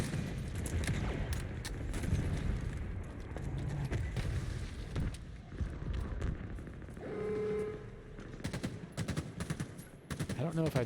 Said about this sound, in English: this Wraith is going to definitely shoot in this location